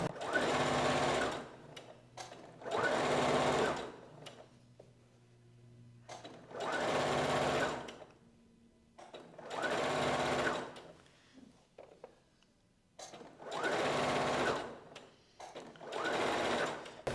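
A sewing machine stitches a button-up blouse with a big collar. It whirs loudly up close in five long runs of a few seconds each, with quiet pauses in between.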